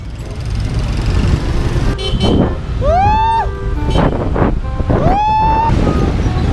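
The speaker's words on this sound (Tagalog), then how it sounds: "It's very traffic guys" Busy street traffic rumbles along with car horns tooting in short bursts, while wind buffets the microphone throughout.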